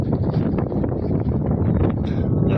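Strong wind blows across open high ground outdoors and buffets the microphone in a continuous rough roar, with gusts swelling and easing.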